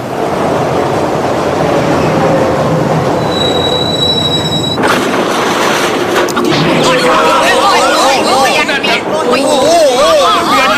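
Subway train wheels squeal and grind along the rails while a crowd murmurs and chatters close by inside the packed carriage.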